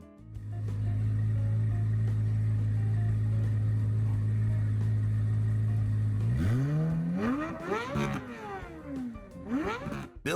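A naturally aspirated 7.0-liter Chevrolet LS7 V8 from a C6 Corvette Z06 holds a long steady idle, then blips through several sharp rising and falling revs near the end, loud and close with no voices.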